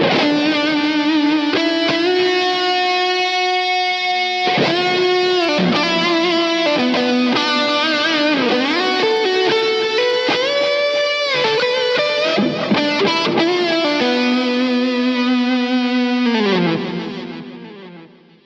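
A heavily distorted electric guitar through a Big Muff fuzz plays a sustained, bending melodic line with thick fuzz, echoing delay and reverb, loud and continuous before fading out.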